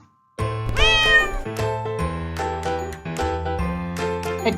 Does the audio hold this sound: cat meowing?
yes